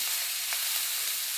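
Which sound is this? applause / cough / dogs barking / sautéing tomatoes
sautéing tomatoes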